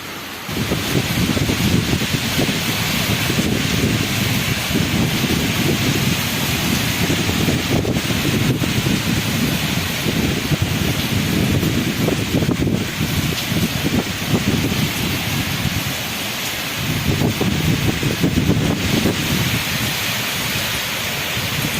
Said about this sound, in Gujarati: એટલો બહાર પવન ચાલી રહ્યો છે અને વરસાદ પણ ખૂબ જ છે